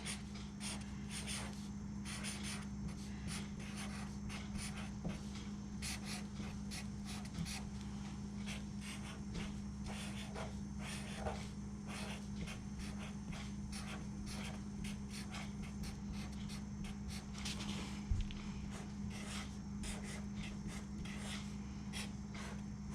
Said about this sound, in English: I'm going to write a message on the front.